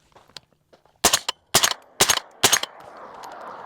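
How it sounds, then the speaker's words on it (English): Rifle shots from a 7.62x39 or suppressed subsonic 300 Blackout, four sharp reports spaced about half a second apart, close and loud, with a lingering hiss of ambient noise after the last. "Let me just try to get a couple rounds off."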